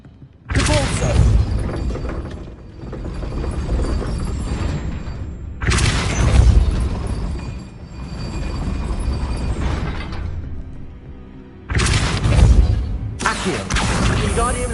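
Depulso spell blasts in a video game: three loud, dense bursts of booming, crashing noise, each rumbling on for a few seconds before cutting off, with a shorter burst at the end.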